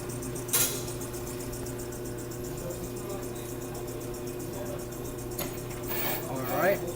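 A brake lathe turns steadily while resurfacing a car's brake rotor, giving a continuous close mechanical hum with faint whine and occasional light clicks.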